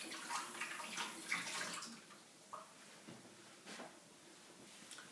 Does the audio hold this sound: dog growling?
no